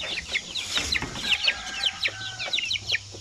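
One-month-old native chicks crowded together in a cage chirp and peep continuously, with many overlapping high calls close by and no voices.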